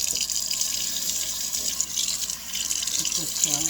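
Hot water runs steadily from a kitchen tap for a quick rinse during stove cleaning, a continuous hiss of flow with light splashing into the sink throughout.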